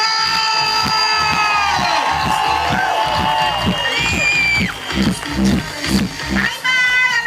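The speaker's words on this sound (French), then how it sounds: "Une belle applaudissement pour Lise Dion!" Live audience at a comedy-festival show breaks into loud, sustained applause with cheering and whoops, dense rhythmic clapping throughout with excited shouts rising above it.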